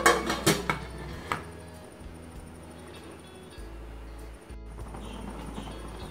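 A metal lid clanks down onto a steamer pot holding a kinnathappam rice cake mix, with a few sharp clatters at the start followed by a quiet, steady background hum.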